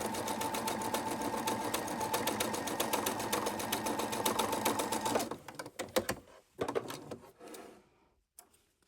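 A sewing machine runs steadily while stitching quilt block pieces, with a rapid, even needle rhythm for about five seconds. Then it stops, giving way to a few scattered clicks and handling knocks.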